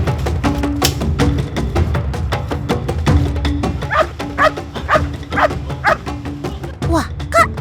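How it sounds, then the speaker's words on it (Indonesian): Cartoon dog barking repeatedly in quick bursts, loud and close, with rising yips and whimpering cries toward the end over a musical score. "Wah, Kak, itu suara si Kamra"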